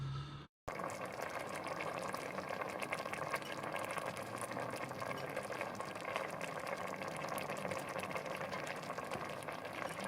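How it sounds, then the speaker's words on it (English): Lentils simmer in a pot with a soft, constant bubbling hiss that stays quiet and even after a brief silence at the start, with no talking. "I'm going to get that onto a simmer for half an hour."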